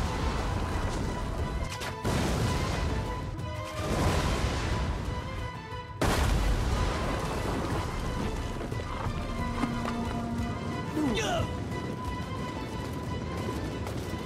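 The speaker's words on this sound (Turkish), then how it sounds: "Sahra topları ve havanlar savunma hatlarını susturmak için aralıksız ateş kusuyordu." Field guns and mortars pound the walls of Trabzon in the 1461 siege, a dense continuous din of booms, crashes and heavy impacts with scattered sharper cracks, loud and unbroken throughout.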